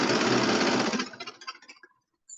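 A sewing machine runs at speed stitching a bomber jacket, a dense close whirring burst that slows into a few separate stitches and then stops.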